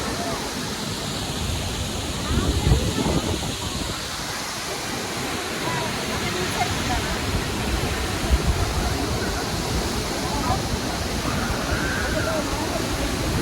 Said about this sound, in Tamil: இது வந்து ஜாங் அருவின்னு சொல்கிறாங்க ஜாங்கனுடைய நீர்வீழ்ச்சின்னு சொல்கிறாங்க